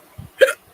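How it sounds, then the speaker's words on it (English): A single sharp hiccup after eating a hot pepper, loud and close, with a soft low thump just before it and quiet afterward. "Hiccups."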